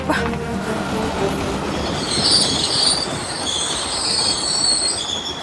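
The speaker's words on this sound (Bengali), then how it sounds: "এই তো ট্রেনটা দাঁড়িয়েছে এখানে না, বেশিক্ষণ ট্রেনটা দাঁড়াবে না।" A train pulls into a station and slows to a stop, with loud, close, continuous rumbling and high metallic wheel squeals running throughout.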